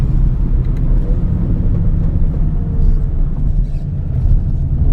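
Deep, constant engine rumble from a 350 BHP Audi RS5 under acceleration, loud and close from inside the car, a steady low drone with road noise and no voices.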